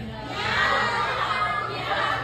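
A group of children shout together in one short, loud burst at a gathering, voices imitating cat meows and blending into a crowd-like cheer.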